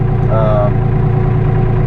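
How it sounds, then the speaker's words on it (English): Kubota B2650 tractor with hydrostatic drive, heard from inside the cab while snow blowing: a loud, steady engine and transmission drone with a constant low hum and no pauses. "the hydrostatic, very loud inside the cab"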